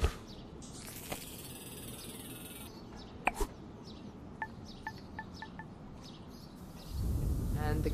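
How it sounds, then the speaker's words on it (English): Morning city ambience from the game Golf Club Nostalgia: sparse, crisp bird chirps pop out in short bursts over a quiet hum, with a faint whistle early on and a rising rush of noise at the end. "Sound of the bustling city in the morning, a call and response of cars and birds"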